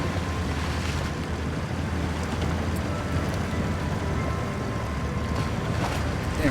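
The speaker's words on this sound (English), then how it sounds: "And we're going to get the boat over here," A boat moves across water in the video game Expeditions, giving a steady wash of lapping water and wind-like rush that holds at an even loudness with no talking.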